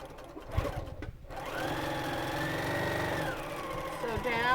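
A sewing machine stitches a salvage purse in a steady, close, whirring run of fast stitches, starting after a few soft handling knocks, with someone talking under it.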